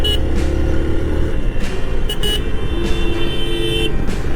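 Car horn honking on a steep, winding hill road, with several short toots over a steady rumble of engine and passing traffic.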